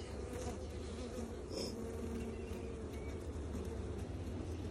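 Honeybees buzz at a new hive being fitted with a frame feeder, a dense continuous hum of many insects close by, with individual bees droning past.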